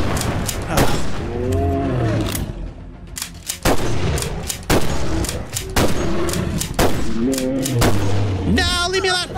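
Gunfire rings out in a Bigfoot hunting video game, a series of sharp, loud shots at irregular intervals, mixed with excited shouting and creature sounds.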